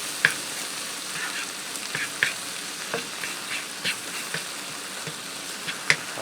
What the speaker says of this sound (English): I'm going to stir that around in there just for a minute to heat that garlic up and get the flavor through the mushrooms